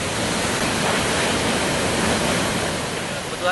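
Curug Lawang Agung waterfall in Lahat, a loud, steady broadband roar of falling water that fills the scene continuously, heard close up.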